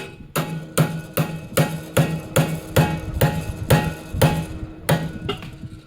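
A chamfered pin is hammered into a rotor arm during a rebuild of a Kun Ga 6000 rotor: about a dozen sharp metallic hammer blows land in a steady, even rhythm, close and clear, with no talking.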